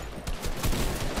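Rapid gunfire in a video game as an opponent is shot down, a dense burst of overlapping shots that fills the whole short moment.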